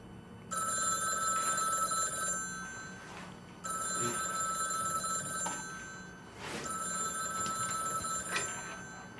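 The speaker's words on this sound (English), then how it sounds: "Phone?" A telephone rings in repeated bursts, three long rings separated by short pauses, fairly loud and close, with no voices over it.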